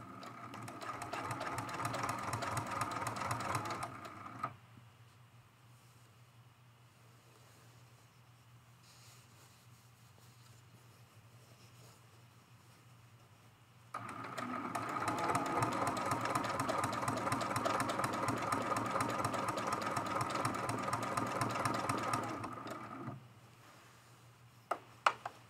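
A sewing machine running for free-motion quilting on an art quilt, two long bursts of fast, steady mechanical stitching separated by a quiet pause, with a couple of faint clicks at the end.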